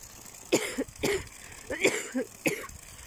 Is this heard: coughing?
yes